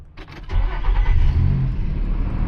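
A car engine starts right after a battery replacement: a few quick starter-motor turns, then the engine catches and settles into a loud, steady running rumble, close up with no talking.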